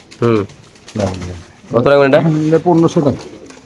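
Pigeons for sale at a Bengali pigeon market, cooing in several close, throaty bursts one after another.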